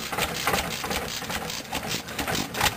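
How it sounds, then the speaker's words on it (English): A McCormick-Deering M engine runs with a homemade muffler fitted to its exhaust pipe, giving a fast, even chugging beat with metallic rattles, loud and close, with no talk over it. "The muffler that was on the milling machine earlier is on the engine here running."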